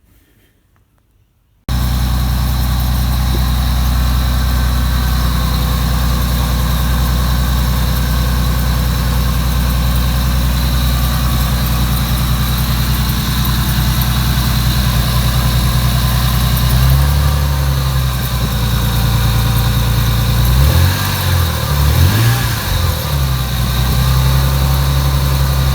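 A naturally aspirated Nissan 300ZX Z32 idles with a steady, deep rumble, close and loud, changing pitch briefly near the end as the revs shift, with no talking.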